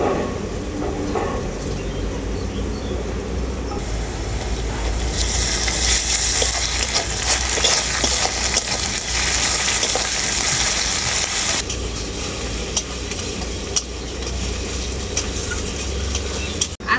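Garlic, onion and ginger paste fry in a pan of oil for a light country-chicken curry, a steady close sizzle with stirring scrapes that swells louder through the middle, then eases back to a lower hiss.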